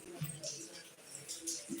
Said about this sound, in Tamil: மழை சும்மா அழகா பெய்யுது